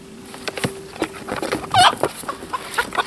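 Chickens cluck close by near a homestead coop, where a white egg-laying mixed-breed hen with an odd crest wanders; several short, irregular clucks and squawks sound alone, with one louder call in the middle.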